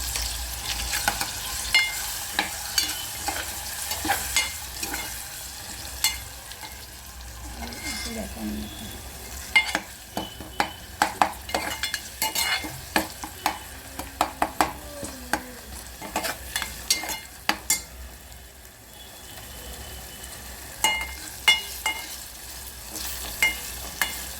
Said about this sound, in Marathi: टोमॅटो ॲड करताना आपण त्याच्यामध्ये हा आपला लाल मसाला ॲड करायचा नंतर आपला गरम मसाला टाकायचा त्यामध्ये आणि मग भाजून घ्यायचं